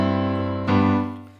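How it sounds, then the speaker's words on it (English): A sustained chord moves from the IV chord to the I chord in a plagal, amen-style cadence, rich and steady, played alone with the second chord swelling slightly before fading out. "So another kind that we have is called a plagal cadence."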